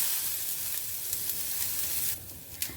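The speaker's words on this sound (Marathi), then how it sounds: "आपण थोडं तेल घालून त्याला थोडं लालसर होईपर्यंत भाजून घेणार आहे" Onions frying in a little oil in a pan until reddish, a continuous close sizzle with soft stirring and a brief utensil clink near the end.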